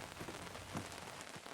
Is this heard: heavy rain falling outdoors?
yes